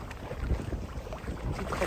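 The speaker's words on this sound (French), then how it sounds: "Petite rafale ici." Wind gusting across a sailboat at about 15 knots in a Greek bay near Skiathos, a steady broadband rush with a brief louder swell partway through.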